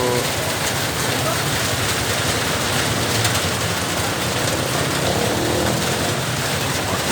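Heavy rain pours down steadily and loudly, a dense, unbroken hiss of drops on surfaces filling the whole scene with no pauses.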